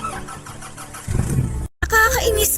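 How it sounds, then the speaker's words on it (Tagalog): A car engine cranks and catches partway through, a short rumbling start that settles into a steady running hum, following a few spoken words. "buksan ko na yung makina ng sasakyan."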